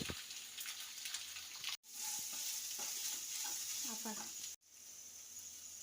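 Soya chunks, boiled beforehand, being stirred in a pan of hot oil, with a steady sizzle and scraping stir strokes that break off briefly twice, no voice over them.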